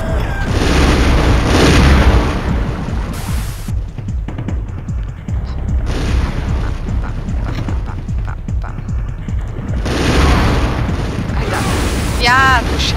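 Grenades detonate in the video game Turok: Dinosaur Hunter with repeated heavy booms and crackling debris, set against game noise while someone talks over them.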